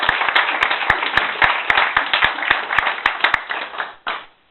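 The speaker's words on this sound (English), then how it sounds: "I would call for a round of applause." Warm audience applause for a Lord Mayor's address in Navan, steady clapping with a few sharp, prominent claps standing out, then stopping abruptly.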